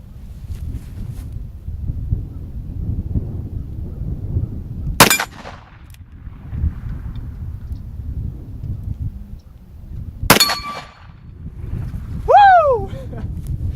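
Two sharp gunshots ring a steel gong target, each crack followed by a metallic ringing decay, spaced about five seconds apart over outdoor wind noise and rumble, with a brief voice exclamation near the end.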